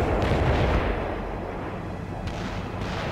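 Medium artillery fire pounds the area in the video game World in Conflict, a dense, continuous roar of distant blasts blurring together into one heavy rumbling barrage.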